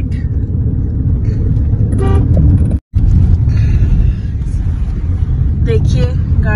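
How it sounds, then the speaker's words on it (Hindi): Engines rumble continuously on a busy road crowded with vehicles, and a couple of short horn toots ring out as people talk nearby. "देखिए गाड़ियों का भरमार और बहुत सारे गाड़िया है।"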